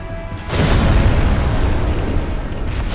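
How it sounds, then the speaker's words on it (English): An explosion from an enemy attack in the video game Dark Souls, a sudden heavy boom that breaks in after half a second and rolls on as a loud rumbling roar. "when it attacks directly in front of it like this, the explosion is what does the damage"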